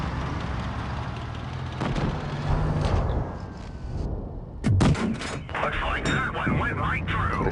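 T49 tank gun in World of Tanks firing amid battle, with several heavy booming blasts and explosions over a constant engine rumble, a voice talking at times.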